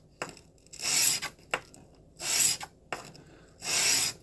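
A steel broadhead is rubbed back and forth over sandpaper on a hard surface in three or four close, rasping strokes, each a scratchy swish separated by brief lighter scrapes.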